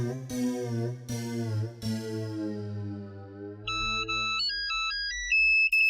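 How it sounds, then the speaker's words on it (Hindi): A phone's ringtone plays loudly: a sustained, tonal melodic chime with several repeated strikes, then a bright sequence of higher electronic notes, with no voices. "पोपटलाल अगर पार्टी के लिए फोन किया है तो हाँ बिल्कुल"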